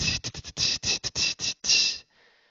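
A mouth imitates an open hi-hat in beatbox style, a run of sharp, breathy hissing bursts, some short and some drawn out, ending in one longer sustained hiss, close and alone.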